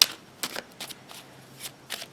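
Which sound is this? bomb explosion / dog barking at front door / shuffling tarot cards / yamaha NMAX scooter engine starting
shuffling tarot cards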